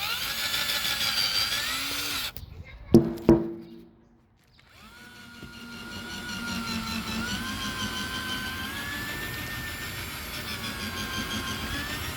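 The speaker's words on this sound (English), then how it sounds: "when you're drilling, you want to kind of use it like an auger" A power drill whines steadily while drilling into a rubber landscape border, briefly stops with a few clunks and knocks, then spins back up into a long, even drilling hum.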